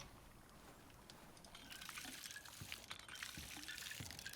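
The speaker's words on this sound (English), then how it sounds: "Crop plots ready. Let's water them." Water splashing onto crop plots in the survival game ICARUS: a soft, steady pouring and trickling stream that grows a little fuller partway through, faint and close, with no voices.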